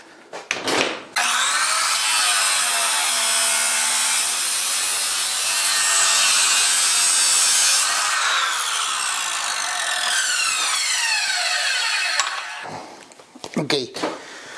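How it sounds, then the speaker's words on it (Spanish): A 14-inch miter saw cuts wood at a 45-degree angle: a short startup, then a loud, sustained whine through the board for about eleven seconds, followed by the blade spinning down with a few clunks afterward. "déjenme conecto la cortadora para hacer el primer corte"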